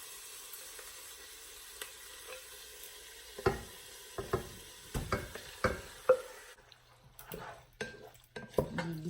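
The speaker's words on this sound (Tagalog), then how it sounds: "Igisa lang natin ang chicken." Chicken sautéing in a pan for afritada, a steady sizzle with a run of metal utensil scrapes and clanks against the pan, stirring growing busier toward the end.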